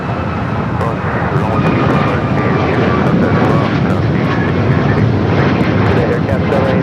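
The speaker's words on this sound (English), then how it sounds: "Flight taking off heading to Houston." Airliner at Los Angeles International Airport taking off for Houston, a loud continuous engine roar that holds steady and close throughout, with voices talking beneath it.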